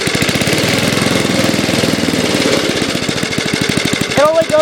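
Snapper small engine with a freshly adjusted carburetor and a worn diaphragm runs rough and loud, with a rapid uneven knocking putter throughout, plus a brief squeal near the end.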